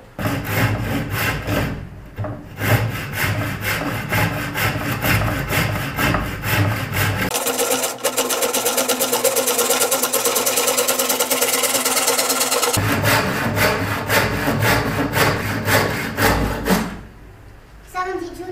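A handsaw cuts through bamboo with steady, fast back-and-forth rasping strokes, loud and close. The pitch shifts as the cut deepens, then the sawing stops near the end.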